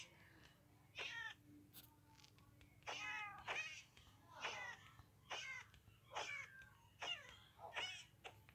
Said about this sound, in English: I'm gonna spawn cats.